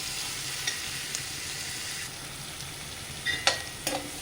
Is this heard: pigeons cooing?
no